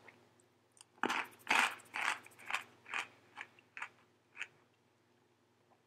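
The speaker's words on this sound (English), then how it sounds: "we'll try out the hot and spicy cracker nuts" Crunching of hot and spicy cracker nuts from an Individual Meal Pack ration: about nine crisp, close bites and chews in an uneven rhythm, loud against a quiet background, with no talking.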